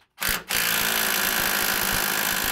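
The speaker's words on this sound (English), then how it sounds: "this impact gun doesn't really go that high anyways" An impact gun tightens wheel bolts on a Mk1 VW during front wheel bearing work. A short burst is followed by a sustained loud whirring with rapid rattling hammer blows.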